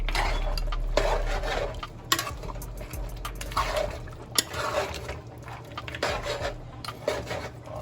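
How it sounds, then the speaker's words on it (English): Butter beans go into a pot of Jamaican oxtail and get stirred, a steady scraping and clinking of a spoon against the pot with faint liquid sloshing, close and continuous with no voices. "I'm gonna add in my butter bean"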